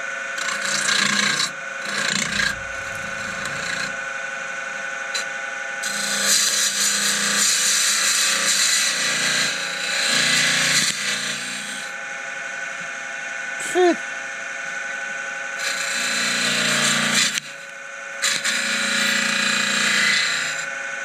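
A hand tool rasps steadily at a resin stick while a small tenon is shaped on it, in long loud filing strokes broken by brief pauses, with some quiet talking in the background.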